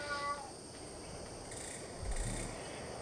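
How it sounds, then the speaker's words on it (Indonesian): A cat meows faintly in the background during a mobile gaming session, a short thin cry near the start over quiet room hiss. "Ada suara kucing, maafkan ya."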